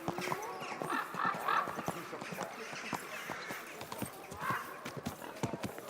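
Horse hooves clip-clop steadily and close by in the medieval open-world game Kingdom Come: Deliverance II, a regular trotting rhythm with a brief whinny, mixed with town bustle and voices talking.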